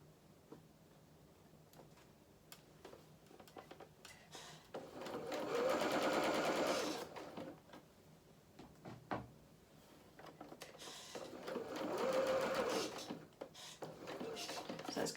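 Sewing machine stitching a dress seam in two bursts of fast stitching, with quieter handling clicks and pauses between them, fairly faint indoors.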